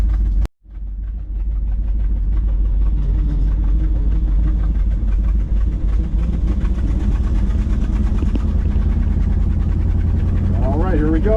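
A 1986 Chevrolet C-10 truck engine runs on the street, a loud, steady low rumble that starts after a sharp clunk and carries on continuously, with a brief wavering tone near the end.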